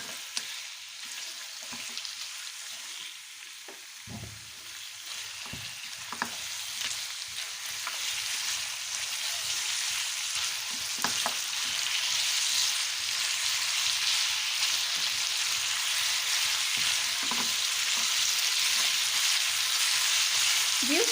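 Ginger-garlic paste fries in a karahi for mutton shinwari karahi, a steady, moderately quiet sizzle with occasional scraping stirs and soft clinks, and almost no talk.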